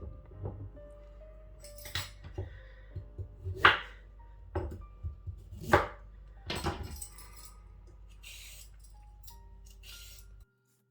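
Knife chopping peeled carrots on a board, a handful of sharp irregular chops and clinks standing out over quiet kitchen background, with no talking.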